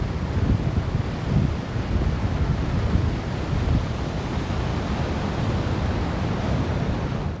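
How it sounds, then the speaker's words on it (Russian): Niagara Falls sends up a steady, broad roar of crashing water, dense and unbroken, with a wind-like rush and no voices over it. "Ниагарский водопад, пожалуй, одно из самых прекрасных мест на планете"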